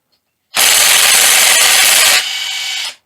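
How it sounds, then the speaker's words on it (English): A socket wrench spins out the 12mm camshaft sprocket bolt on a 1997–2001 Honda CR-V during a cam seal job, giving a loud, close, sustained grinding whir for about two seconds that then drops to a slightly lighter whir before stopping. "12mm socket to remove the sprocket bolt."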